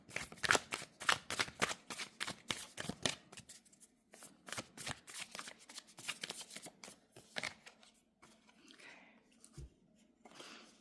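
Tarot cards are shuffled by hand in quick bursts of crisp riffling and flicking, close and clear, with short pauses and softer handling toward the end.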